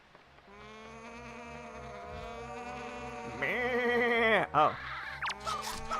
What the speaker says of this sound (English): It sounds like a sheep. I'm pretty sure that's a bird